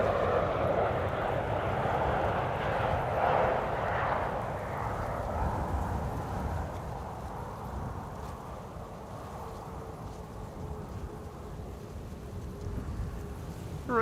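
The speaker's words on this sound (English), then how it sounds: "the KLM Embraer in the meantime landing over here" A KLM Embraer jet comes in to land, its engine roar moderately loud at first and then slowly fading and lowering in pitch as it passes, heard alone without talk.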